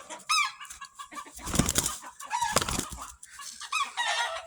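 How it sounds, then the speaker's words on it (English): An agitated rooster clucks and crows loudly and close by in a series of harsh, irregular calls with short pauses between them. "Try and be happy, Mr. Rooster"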